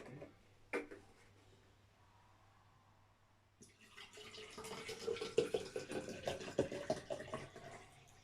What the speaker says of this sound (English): we need to fill that with water